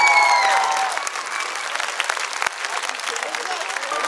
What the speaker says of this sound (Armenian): գնա, ծափարենք Ալեքսանդր Սիրովին